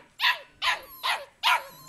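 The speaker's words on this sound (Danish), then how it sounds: "Den lyd, I kan høre her, som de der ynkelige valpe sidder og siger." Young Goldendoodle puppies, about five to six weeks old, left alone give four evenly spaced high, plaintive yelping barks with whiny edges, close and clear with nothing else around.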